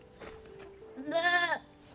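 Goats on a countryside farm give a wavering bleat, loud and close, following a softer, shorter call, with quiet ambient noise and no talk.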